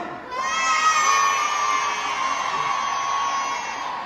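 A concert crowd at the Zénith in Strasbourg shouts and cheers together for a rapper, a sustained, loud, high-pitched mass of voices rising after a brief lull and holding steady.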